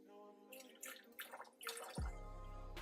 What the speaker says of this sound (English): want to run some water in the sink, which is lukewarm temperature